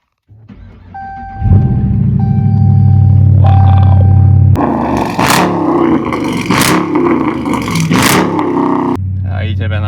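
Dodge Challenger American V8 muscle car in Karlovy Vary starts up and revs, a deep idle rumble giving way to several loud, sharp throttle blips and roars, close and dominant, with a voice audible near the end.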